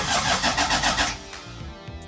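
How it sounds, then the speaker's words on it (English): A 1HZ diesel engine in a Toyota Land Cruiser with a hard-starting glow plug fault cranks in a loud rhythmic churn for about a second, then catches and settles into a rough, close idle. "So let me try to start the vehicle."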